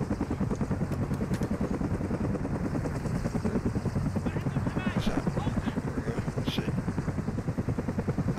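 A helicopter in Call of Duty Modern Warfare thrums with a fast, steady rotor chop throughout, loud and close, with occasional clatter and brief gunfire-like sounds over it.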